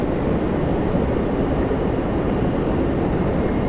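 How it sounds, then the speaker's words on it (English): A WestJet Boeing 737 Max 8 arriving from Cancun at Toronto Pearson makes a steady, loud, broadband jet roar that holds even throughout, with no voices. "WestJet 2775 from Cancun on a Max 8 coming in next"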